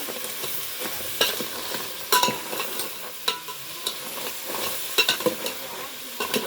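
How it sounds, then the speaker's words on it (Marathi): Turmeric sizzles in hot oil while being stirred for a river-crab curry, a steady crackling fry broken by sharp clicks and scrapes of the spoon against the pan, close and clear with no talking. "हा बघा हळद आधी परतून घ्यायचं मस्त."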